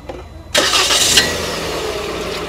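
A Proton Saga VVT car engine cranks and catches abruptly at close range, with a short burst of revving before settling into a steady idle.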